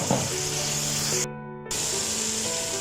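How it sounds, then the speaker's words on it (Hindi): Tomatoes frying in a pan with onion, ginger, garlic and salt for a bitter gourd and chana dal dish give a steady, close sizzle and hiss that drops out briefly partway through. "टमाटरों को भी अच्छे से फ्राई कर लेते हैं।"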